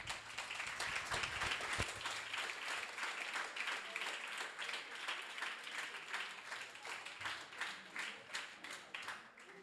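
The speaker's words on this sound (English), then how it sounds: "With 15 votes in favor, this resolution has passed and clapping is in order" Delegates at a Model UN session clap after a resolution passes, a steady, even round of many hands heard from a distance and fairly faint, lasting the whole stretch with no talking.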